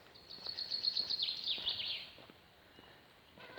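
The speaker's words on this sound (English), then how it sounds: "You can hear the birds, hear the chaffinches." Chaffinches singing in spring woods, a bright, rapid descending trill of chirps in the first two seconds, moderately near over quiet outdoor background with faint later calls.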